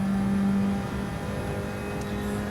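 Gr.4 race car in Gran Turismo 7 at Spa, coming onto the back straight, its engine holding a steady loud drone throughout, pitch barely shifting as it runs flat out.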